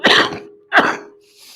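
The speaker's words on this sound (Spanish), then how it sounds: "Disculpen por esta tos que bueno, la tengo desde hace tiempo." Two separate coughs from a man who has had a lingering cough, heard close and fairly loud during a poetry recital, with a faint hiss trailing after.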